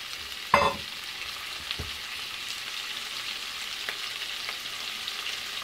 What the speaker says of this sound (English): we throw in the shrimp